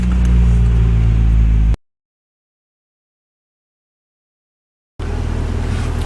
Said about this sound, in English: So we're gonna start the car now.